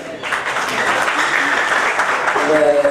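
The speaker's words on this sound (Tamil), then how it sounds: "அந்த கைதட்டு 7 பேருக்கு நன்றி" An audience at a film press meet for the movie Rajini Murugan claps steadily in a dense, continuous burst of applause, with a voice emerging faintly near the end.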